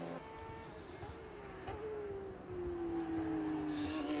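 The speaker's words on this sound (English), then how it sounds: "A Porsche just clicking it through the, going down the gears." A Porsche race car at Watkins Glen during a 7-hour endurance race downshifts through the gears, its engine note sliding steadily lower in pitch, heard at a distance over a steady background roar.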